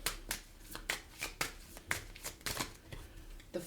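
Tarot cards are shuffled close and quietly, a run of quick papery riffles and taps in an irregular rhythm, heard on their own.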